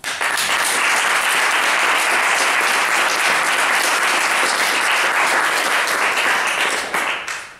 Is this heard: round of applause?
yes